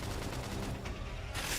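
Rapid bursts of gunfire in the Xenoblade Chronicles X Definitive Edition video game, dense and continuous over the short span, loud and close.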